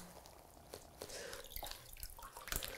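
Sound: newspaper sheets dipped in water, dripping

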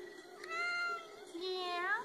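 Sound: cat meowing

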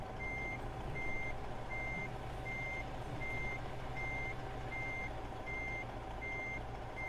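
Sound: truck reversing beeps while backing up a trailer

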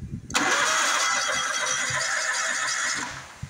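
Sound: lawn mower engine cranking with key, not starting

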